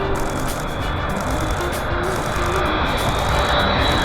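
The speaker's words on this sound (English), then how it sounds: "But this is a 777, that's too big to be a Dreamliner." Boeing 777 airliner passing overhead on arrival at LAX, a loud, steady broadband roar with a sustained engine whine that fills the whole clip.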